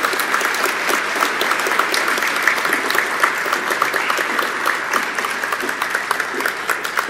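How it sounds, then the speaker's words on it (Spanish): An audience at a teachers' day ceremony claps in sustained, dense applause, an even continuous patter of many hands that runs the whole time without speech over it. "Un fuerte aplauso para ellos, por favor."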